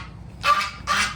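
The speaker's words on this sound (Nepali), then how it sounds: "के हो यो हाँस कुखुराहरू यहाँ चलिरहेको छ।" Ducks and chickens kept in a pen at a fair give two loud, harsh honking quacks, each lasting about a quarter second, close by with no talk.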